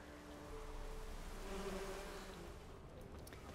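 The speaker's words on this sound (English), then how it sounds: "let's get rid of those bees and grab the honey" Bees buzz in a steady drone in The Witcher 3 as they swarm around a honey source, with a continuous insect hum that holds at a moderate level throughout.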